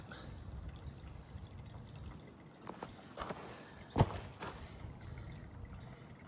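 Storm water flowing into a catch basin drain outdoors, a faint continuous trickle and wash with a few soft splashes and one sharp drip-like knock near the end.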